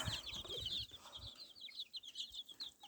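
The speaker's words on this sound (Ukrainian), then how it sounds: "Також у нас є такі курчата." A small flock of incubator-hatched chicks peep in quick, high, repeated chirps, fairly quiet, with soft rustling and occasional lower clucks from nearby fowl.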